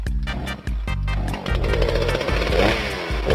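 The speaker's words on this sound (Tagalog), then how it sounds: "Oh my god, chainsaw." A chainsaw is used on a computer, roaring loud and close. Its engine surges and drops in repeated bursts as it bites, then holds a steady rasping drone.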